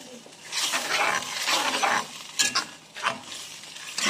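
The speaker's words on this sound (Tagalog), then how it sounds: "Tapos, halu-haluin natin." Food is stirred in a cooking pot with soft scraping and clinking strokes and some quiet sizzling, close and moderately loud, under a few moments of talk.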